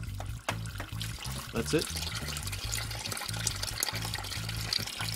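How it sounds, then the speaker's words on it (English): Old black transmission fluid from a Mercedes 722.9 gearbox in an ML-class SUV runs out of the transmission pan in a steady trickling stream, under brief talk. "now the rest of the dreadfully old black smelly transmission fluid is running out"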